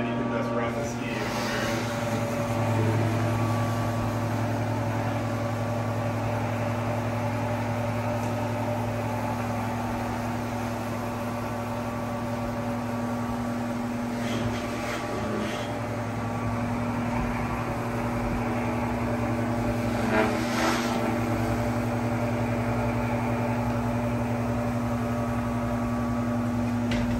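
A ski waxing machine runs its heated belt to melt wax, giving a steady, even mechanical hum throughout, with faint brief clicks and rustles now and then.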